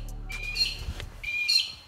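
A small bird chirps outdoors in short, bright bursts, close and clear, with two main clusters of tweets separated by a brief pause and a low background hum.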